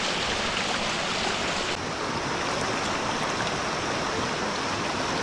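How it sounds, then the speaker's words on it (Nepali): Clear stream water rushes steadily past, a loud, continuous, close broadband flow with no pauses and no voices. "यहाँ चाहिँ जति पनि पानी बगिरहेको छ"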